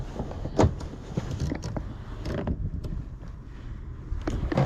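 Window winder being fitted and turned on a car door during a door lock actuator repair: faint plastic-and-metal creaks and clicks in quick, irregular bursts, close up, with no talk.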